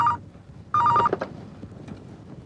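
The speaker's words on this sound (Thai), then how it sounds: "โทรศัพท์" A telephone rings with two short electronic trilling bursts, close and clear, followed by faint room noise and a brief clunk.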